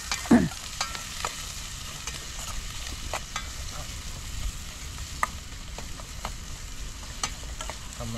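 Garlic and pepper saute in a pan with a steady close sizzle, punctuated by regular scraping and clinking strokes of stirring.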